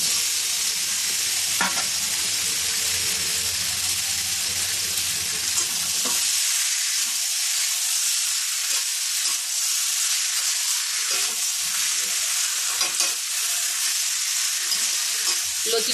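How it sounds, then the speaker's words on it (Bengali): Boiled taro stolons are stirred and fried in a cooked spice masala, with a loud, continuous close sizzle and scattered spatula scrapes; low rumble fades after the first few seconds. "এবার সিদ্ধ করে রাখা কচুর লতিগুলো দিয়ে দেব।"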